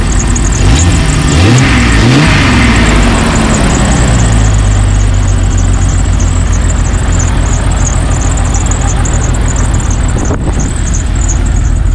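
A 1996 Jeep Cherokee XJ with a MagnaFlow exhaust and throttle spacer revs up loudly close by, climbing and falling a few times before settling into a steady idle.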